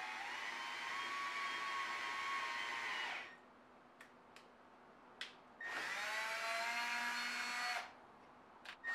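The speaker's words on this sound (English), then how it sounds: "I'll tap those holes using a hand drill." A hand drill tapping small holes in a metal knife groove tool whirs steadily in two long bursts, with a pause of quiet small taps and clicks between them.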